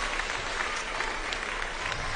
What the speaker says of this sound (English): let's give these kids one more round of applause